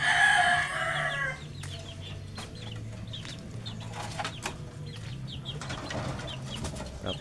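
Hens cluck and a rooster crows in an outdoor poultry yard; a loud crow opens the clip, then scattered clucks and soft wing flaps continue at moderate distance over steady background noise.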